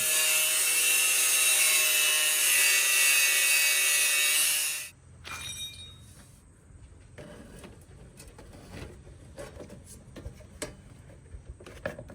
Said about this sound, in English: So I'm gonna cut it from the bottom, the angle that I need, so it'll drop it down to where I need it to be at.